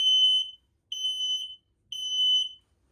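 Three loud, high-pitched electronic beeps from a smoke alarm test in a 2023 Forest River No Boundaries travel trailer, each about half a second long, evenly spaced with short silences between them.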